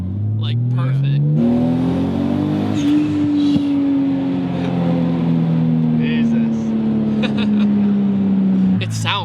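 Nissan 240SX with a turbocharged engine revving hard on a dyno, a loud sustained pull whose pitch rises then holds and slowly falls with turbo whoosh, with voices talking over it.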